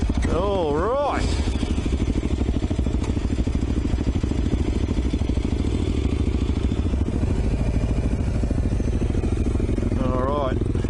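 A dual sport motorcycle is ridden off-road at One Tree Hill, its engine droning steadily and fairly close throughout, with brief revving swells near the start and end while people talk over it.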